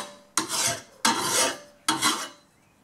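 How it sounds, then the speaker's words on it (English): Three rasping strokes of a hand file deburring a lawn mower blade, each a distinct scrape with short pauses between, close and fairly loud. "can use a hand file, like I've got here."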